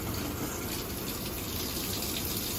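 Water gushes steadily from a faucet in an Apex 194BHS camper being de-winterized, a continuous full, even flow heard up close with no talking.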